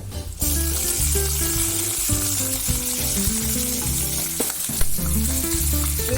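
Garlic and ginger sizzle steadily in hot coconut oil while cooking a drumstick dish, with a continuous close frying hiss under music-like tones.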